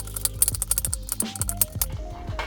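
Knife chopping ingredients into big, uneven chunks on a cutting board for brown butter cookie dough, a quick run of close, sharp chops and knocks with an irregular rhythm over a faint background hum.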